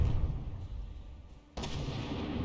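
A missile strike explodes in the vehicle-combat game From The Depths: a sudden loud blast with a broad, rumbling crash that cuts through a low, steady background roar.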